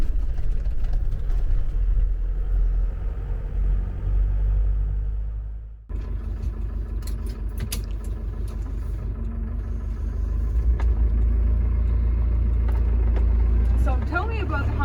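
A car drives along the road with a continuous low engine rumble and road noise from inside the cabin, and people talk over it throughout.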